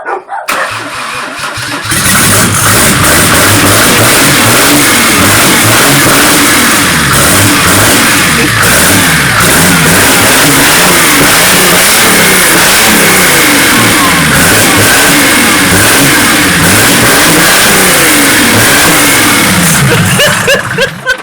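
A car engine starts and is revved hard and repeatedly for about twenty seconds, loud and close, with rising and falling surges of roar; the car is tied to a Mercedes.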